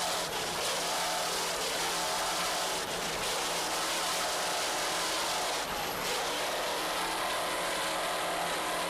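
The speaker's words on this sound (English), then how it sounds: "Just listen to those Mercury engines." Mercury engines on an offshore racing powerboat roar loud and continuous, a dense high-pitched engine howl with slight dips and surges as the boat runs at speed.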